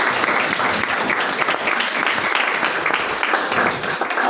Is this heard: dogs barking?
no